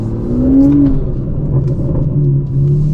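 A powerful Aston Martin DB11 V12 engine hums and rumbles steadily, with a rising rev early on, heard from inside the car with the windows closed.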